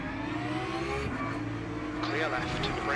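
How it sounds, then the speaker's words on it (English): A race car in Le Mans Ultimate at Bahrain roars past with a sustained, loud engine whine that shifts in pitch, and a voice speaks over it. "There's a car approaching."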